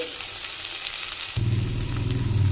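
Finely chopped onions hiss and crackle in a pan with cumin seeds and cut green chillies, a dense steady sizzle that grows louder and heavier partway through as the onions hit the hot oil.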